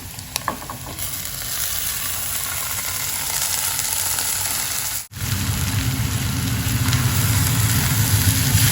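Shredded cabbage added to sautéed onions in a pan for Kerala-style cabbage thoran sizzles and fries steadily, with a brief pause midway before the frying resumes louder and fuller.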